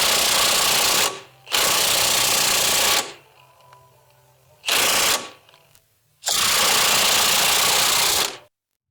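A Milwaukee impact wrench hammers at a seized axle hub bolt on a VW, Audi or Porsche in three loud bursts of rapid rattling, separated by quieter pauses with faint background noise.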